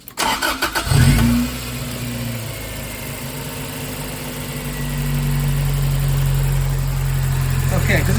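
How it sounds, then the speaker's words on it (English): A car engine cranks for about a second with rapid stuttering turns, catches, then settles into a steady low idle that swells slightly louder toward the end. "I'm just going to jump in the car and start it"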